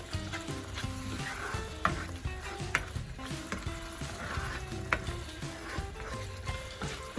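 Okra masala (masala bhindi) fries in oil with a steady close sizzle, broken by light spoon scrapes and taps at irregular intervals, and no voices over it.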